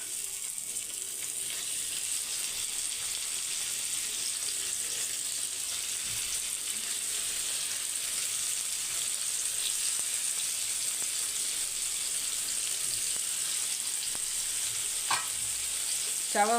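Fish fries on a hot dosa griddle with a continuous, even sizzle and hiss, close and fairly loud, joined near the end by a few faint clinks and scrapes.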